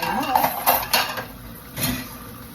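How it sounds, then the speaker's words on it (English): Plates being rinsed and handled during dishwashing, with close, irregular clinks and clatters of dishes and cutlery over running water, and no talk. "this is how I wash my plates"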